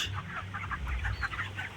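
Chickens on a poultry farm cluck in a close, busy chorus of short repeated calls, with no voices over them.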